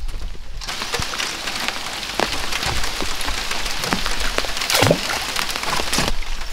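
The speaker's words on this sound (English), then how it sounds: "And looky here, it's raining" Steady rain patters continuously on surfaces close by, a dense hiss with scattered louder drops and no voices.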